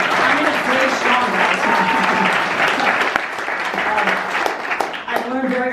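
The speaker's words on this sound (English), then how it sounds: "We could clap for that." An audience applauds during a speech by a coach. Steady clapping fills the room for several seconds while a voice talks over it.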